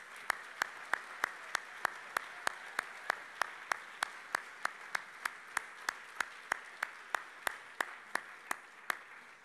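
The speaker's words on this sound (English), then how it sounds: "Please join me in a round of applause." An audience applauds at a peace-focused public event: fairly faint, evenly spaced claps in a steady rhythm that carries on for several seconds.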